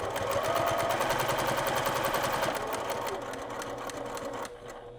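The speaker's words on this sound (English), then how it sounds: "If I'm sewing a 1/4 inch in, I'll stop at that fold line." A sewing machine stitches quilt fabric up to a fold line, its fast, even whirring running steadily and close up before stopping abruptly near the end.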